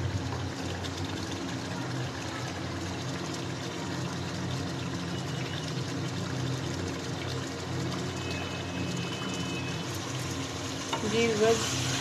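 Cauliflower and meat frying in a pan over a full flame as the water cooks off, a steady close sizzle running throughout with faint stirring.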